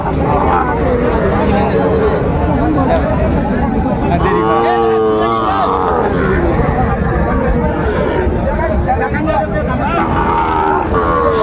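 Cattle, including Sahiwal bulls, low and moo amid a noisy crowd at a busy Eid livestock market in Dhaka, with constant chatter and overlapping voices throughout.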